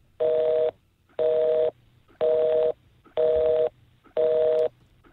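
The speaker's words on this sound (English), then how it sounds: "When's the last time you heard a busy signal?" Telephone busy signal heard on a radio call-in line, five evenly spaced dual-tone beeps, each about half a second long with equal gaps, loud and clear with no voices over them.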